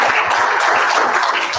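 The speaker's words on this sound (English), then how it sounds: "We'll take all the applause you want" Applause from a conference audience at a dealer industry event, a steady, dense wash of many hands clapping throughout, fairly loud and continuous with no pause.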